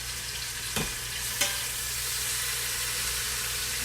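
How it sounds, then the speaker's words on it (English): Chunks of beef sear in an Instant Pot with a constant, close hissing sizzle. Two sharp clicks of tongs or a spatula cut through early on. "We're gonna let these sear, and maybe every minute or so, flip them to another side."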